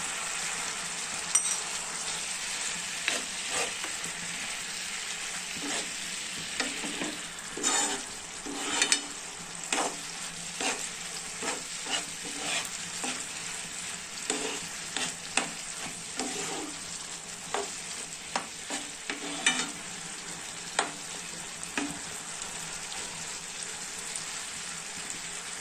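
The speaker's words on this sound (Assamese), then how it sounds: "এতিয়া মই এই কণীখিনি মই ইয়াত ঢালি দিম" Beaten eggs hit a hot pan and fry with a steady sizzle, while a utensil stirs and scrapes in irregular clacks and taps across the whole stretch; no one speaks.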